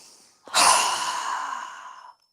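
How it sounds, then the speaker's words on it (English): A single strong exhale through the mouth during a yoga breathing exercise, a close, breathy whoosh lasting under two seconds that follows a brief quiet gap. "exhale through our mouth with a strong exhale"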